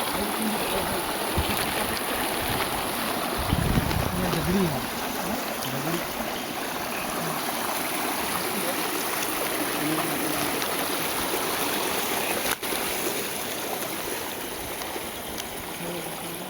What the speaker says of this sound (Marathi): पाण्याचा प्रवाह थोडा मोठा आहे.